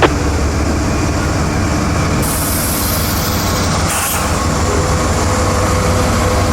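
Freight train Q455 rolls through the Baldwin rail yard with a steady, loud rumble of cars and wheels on track, a continuous close drone with a brief hiss of air midway.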